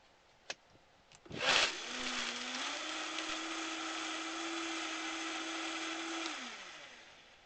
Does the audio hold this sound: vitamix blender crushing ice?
yes